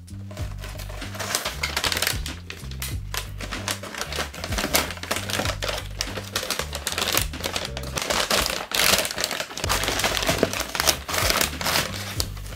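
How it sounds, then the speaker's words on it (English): The cardboard retail box of a Samsung Z Fold 3 phone is opened up, giving continuous close scraping, crinkling and tapping of card and packaging over a low steady background hum, with no voices. "I'm going to unfold the box"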